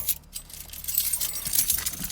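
Car keys jangle and clink steadily for a couple of seconds close by, a bright metallic rattle with no talking, near a Monte Carlo being worked on.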